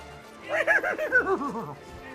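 A man imitates a horse whinny with his voice, a loud rising-then-falling series of wavering, bouncing vocal tones that trail off over about a second, heard on its own without other talk.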